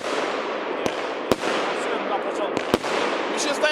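Shots from cheap SRPYRO consumer fireworks, with a few sharp cracks standing out over a steady, loud crackling wash of noise.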